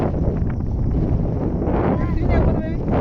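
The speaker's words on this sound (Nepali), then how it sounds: "वाह क्या हावा चलेको" Loud, steady wind buffets the microphone in a continuous roaring rush, with a voice faintly audible underneath.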